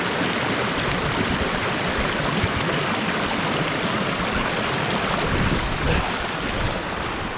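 A mountain stream on the Snowdonia Slate Trail rushes close by, a loud, steady broadband wash of flowing water that continues without pause throughout.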